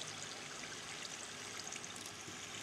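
A waterfall in Minecraft rushes steadily, a dense broadband watery roar with no breaks and no voices, moderately loud throughout.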